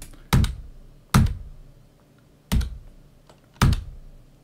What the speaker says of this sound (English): I'm sure you can hear my keyboard clicking